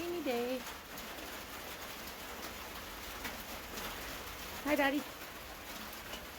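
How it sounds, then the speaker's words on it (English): Steady rain falls at a farm barn with goats, a soft continuous hiss throughout, while a person speaks briefly near the start and again later. "And everybody's just rainy day it is."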